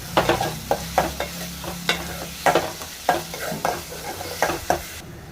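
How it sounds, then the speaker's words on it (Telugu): Onions frying in a pan while being stirred repeatedly, a steady sizzle broken by rhythmic scraping strokes of a spoon at close range, with no voices. "ఉల్లిపాయలు బ్రౌన్ కలర్ వచ్చినంత వరకు ఫ్రై చేసుకోవాలి"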